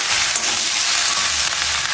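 Malabar spinach greens dropped into potato and pumpkin frying in hot oil, a steady close sizzle with some stirring throughout.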